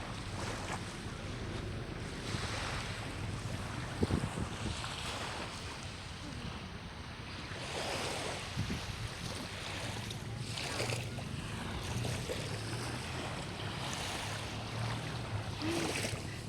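Sea waves wash in steadily on Jomtien beach in Pattaya, Thailand, a broad continuous surf roar with swells rising and falling, mixed with wind buffeting the microphone and a hint of boat engine noise.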